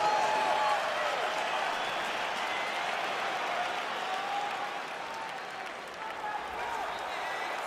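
Steady roar of crowd applause and cheering fills an arena as a fight begins in EA Sports UFC 4, holding loud and continuous throughout with a slight dip near the end.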